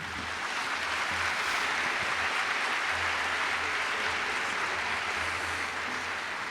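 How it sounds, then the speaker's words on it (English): A packed opera house audience claps through a medical school white coat ceremony as a wash of sustained applause, blended and even, with a faint low hum underneath. "So please, a round of applause for our current coders."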